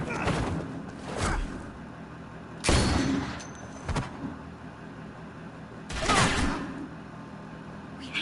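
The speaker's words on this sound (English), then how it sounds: "I hear gunfire." Several bursts of gunfire and explosive blasts ring out at intervals in the video game The Walking Dead: A New Frontier, sharp and booming, over a low background rumble.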